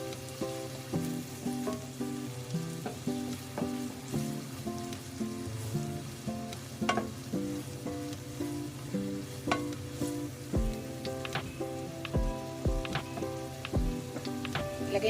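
Pork sisig frying in a pan, heard as a soft continuous sizzle with light stirring and occasional clinks under a faint tonal background, no talk.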